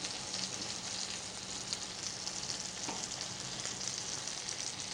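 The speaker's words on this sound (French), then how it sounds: "j'attends que la crème se mette en ébullition" Cream heats toward a boil in a pan on a French chef's stove, giving a steady soft sizzle and bubbling hiss, close and continuous with no voices.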